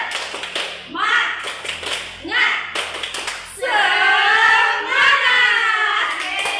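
A class of children does the rhythmic tepuk semangat spirit clap, sharp hand claps in quick patterned bursts, then the group chants together in unison.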